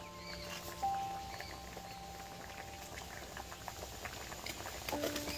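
Moong dal simmering with vegetables in a pot gives a steady, soft bubbling patter, low and close, with a faint thin tone and a few light knocks near the end.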